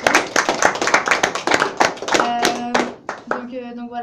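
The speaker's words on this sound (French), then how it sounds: "Je crois qu'on peut les applaudir pour toutes les interventions." Audience at a debate in Lausanne applauding the speakers: brisk, clustered clapping from a modest crowd for about two seconds, fading as a voice takes over and speaks above the last scattered claps.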